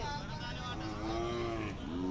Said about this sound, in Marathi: अशा प्रकारची हल्लीकर मिक्स गाय आहे